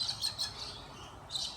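Birds chirping at feeding time: bright, repeated tweets and calls, fairly close and lively, coming in short bursts over a soft outdoor background.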